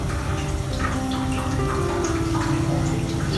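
Water poured off soaked dahi bhalla lentil dumplings onto a plate, a steady close splashing trickle with faint drips, continuous for a few seconds with no talk.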